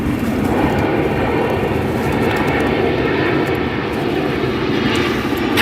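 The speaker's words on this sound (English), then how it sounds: "Our next arrival is Southwest Airlines Flight 1990 coming in from Nashville. A Boeing 737-700" A Southwest Airlines Boeing 737-700, fifteen years old, arriving at Chicago O'Hare from Nashville; a loud, continuous jet engine roar holds steady throughout with no talk over it.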